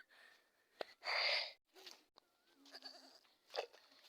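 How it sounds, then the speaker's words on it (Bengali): A goat at a rural fish-pond farm gives a short bleat among scattered rustles and snorts, close by and fairly quiet, with faint background sounds between calls. "মারে, ছাগল আমার পিছন ছাড়বে না"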